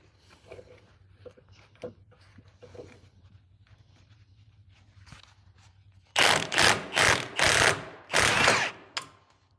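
An impact wrench hammers at a badly rusted bolt on a trailer jack, several loud close bursts of rattling impacts in quick succession, after quieter handling clatter.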